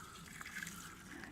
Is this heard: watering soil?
yes